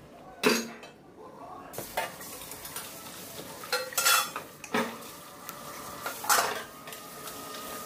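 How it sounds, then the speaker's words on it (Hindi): Dishes, pots and utensils are washed by hand in a home kitchen: steel pieces clank and clink in sharp irregular knocks over a steady wash of running water and scrubbing, close by. "आपको लग रहा होगा कि मैं ये बहुत जल्दी बर्तन धो रही हूँ"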